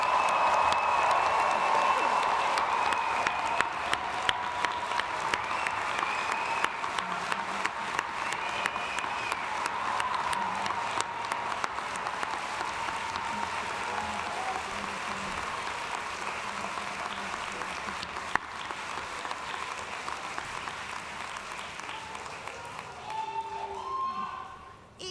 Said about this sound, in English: Everyone, join me in one more time, giving these graduates one more round of applause.